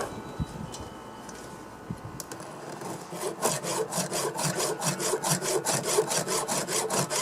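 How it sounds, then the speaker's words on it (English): A file sharpening the teeth of a chainsaw blade: after a quiet opening with light handling clicks, a close rasping scrape repeats in a steady back-and-forth rhythm of regular strokes, with no voices. "that's about it for sharpening that blade"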